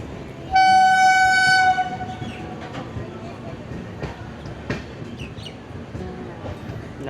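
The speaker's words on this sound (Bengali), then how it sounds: "আর অলরেডি 5 নম্বরে আমি দেখতে পাচ্ছি ভারতবর্ষের প্রথম Vande Bharat sleeper express train প্রবেশ করছে" The Vande Bharat Sleeper Express, running Kamakhya to Howrah, sounds a single long, loud horn blast as it enters Bandel Junction, followed by a steady rolling rumble and clatter of the approaching train with scattered clanks.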